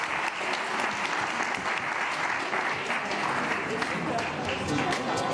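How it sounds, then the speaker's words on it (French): Loud, sustained applause from the audience at the close of a round-table conference session, many hands clapping steadily in a broad continuous patter, with faint voices underneath. "on peut les applaudir"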